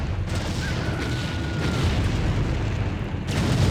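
A tank factory blows up in the real-time strategy game Empire Earth, a sustained loud rumbling blast with crackling debris that swells and holds steady to the end, with no talk.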